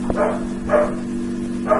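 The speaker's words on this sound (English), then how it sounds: "Sorry, my dog's barking." A household dog barks three times in short, evenly spaced bursts, moderately close, over a constant low hum.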